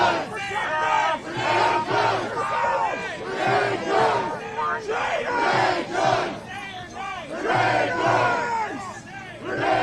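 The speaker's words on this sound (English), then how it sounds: "Right now the crowd is chanting, "Say her name, Renee Good,"" Protest crowd of neighbors and demonstrators, some sitting and kneeling on the ground, chanting a slogan together in loud, rhythmic repeated bursts that swell and fall across the whole stretch.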